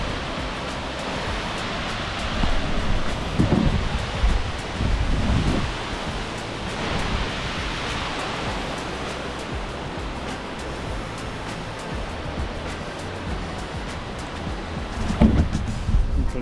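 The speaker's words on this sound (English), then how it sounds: "and there's the waterfall." A mountain waterfall near Silverton, Colorado, rushes in a continuous broadband roar heard from a short distance outdoors, with faint wind and occasional swells in loudness but no speech.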